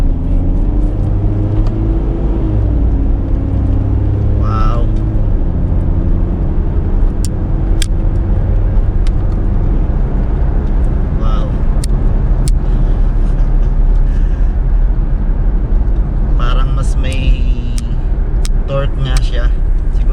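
A 2014 Mitsubishi Montero Sport GLS V 4x2 with automatic transmission, its engine giving a steady low drone from inside the cabin while driving, with someone speaking over it.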